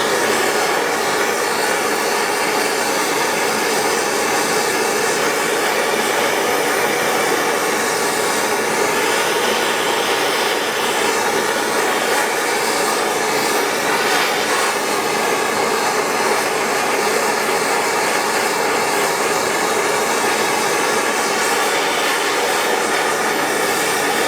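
A heat gun roars in a loud, continuous blast as it heats a KTM PDS rear shock's bearing housing for a lower heim joint bearing replacement. The tone stays steady and unbroken throughout, with no talk.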